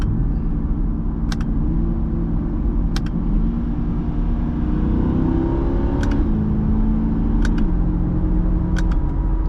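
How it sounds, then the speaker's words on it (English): A C8 Corvette engine revs and climbs through downshifts in manual mode, a close steady rumble with rising and falling pitch sweeps, punctuated by several sharp paddle-shifter clicks. "Let's put this thing into manual mode and downshift a little bit"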